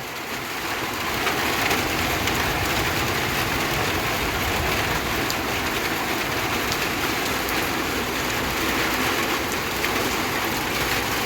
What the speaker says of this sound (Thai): ฝนตกแล้วจ้าบ้านหนู